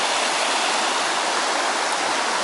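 The river stream at Cwm Cynfal, a little over a mile below a waterfall, rushes in a dense, steady, loud hiss of flowing water with no breaks and no voices.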